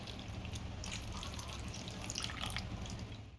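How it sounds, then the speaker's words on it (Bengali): Water and milk poured over a deity idol during a Janmashtami ritual bath at a home shrine, a steady close trickle and dripping that runs throughout, with a low hum beneath. "চান করছে দুধ গঙ্গা জল দিয়ে"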